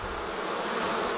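Honeybees in a UK beehive produce a dense, even buzz, close and continuous throughout the brief moment.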